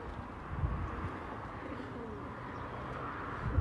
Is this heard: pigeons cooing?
yes